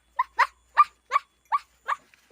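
A voice imitates a dog with seven short, evenly spaced barking yaps in quick succession, close and clear against silence.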